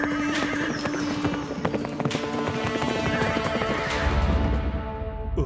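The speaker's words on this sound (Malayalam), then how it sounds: "ദേ നോക്ക് കുതിര." A cartoon horse gallops with a dense, continuous clatter of hooves, mixed with whinnies and crashing effects, loud and busy throughout.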